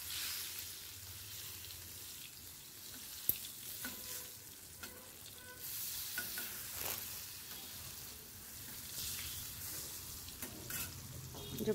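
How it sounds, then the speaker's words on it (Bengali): Pointed gourd (potol) fries steadily in a pan with a continuous crackling sizzle, joined by scattered clicks and scrapes of stirring at close range, with no talk over it. "এদিকে পটল ভাজি হচ্ছে"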